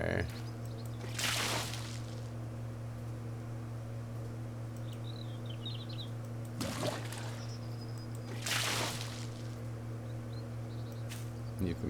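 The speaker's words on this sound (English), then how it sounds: "You can pick up and pour and pick up and pour." Water is poured from a bucket in a video game: three short splashing pours stand out over a steady low hum, with a person talking between them.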